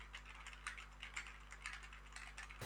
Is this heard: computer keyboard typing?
yes